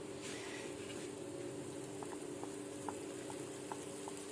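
Soft, steady sizzle and bubbling of onions added to a spiced masala for a potato samosa filling, faint and continuous with a few tiny pops.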